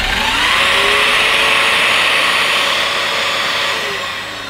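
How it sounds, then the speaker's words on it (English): A Hosome cordless vacuum cleaner, set up as a handheld with the floor head clipped on, is switched on and runs with a loud, steady motor whine and rotating brush that tapers off slightly near the end, with no talking. "then if I switch it on"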